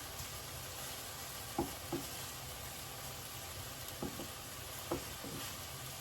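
Chicken pieces fry in a pan, giving a quiet, even sizzle with a few soft scrapes and clicks as the pieces are turned over.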